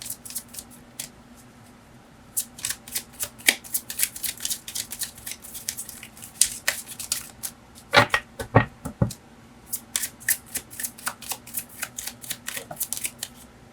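Tarot cards are shuffled during a card reading, giving irregular runs of crisp, close flicking clicks with a denser rapid flurry partway through, over a low steady hum.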